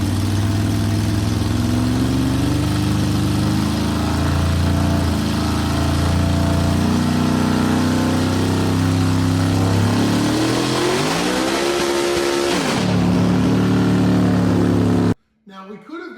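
High-torque all-motor race car engine roaring steadily on a roller dyno, holding a loud, sustained pitch, then revving up and climbing sharply before cutting off abruptly near the end.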